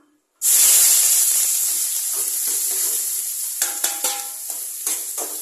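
Sliced onion and green chillies drop into hot oil with a sudden loud sizzle that settles into a steady hiss, punctuated by a few sharp stirring clicks toward the end.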